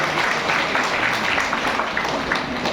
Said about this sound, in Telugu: అందరూ చప్పట్ల ద్వారా అభినందనలు తెలియజేద్దాం